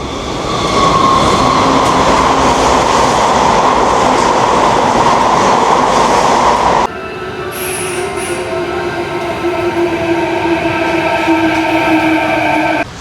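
A train running on rails in Japan, loud and close, with a steady rumble and clatter, then quieter rolling with faint high wheel squeal toward the end.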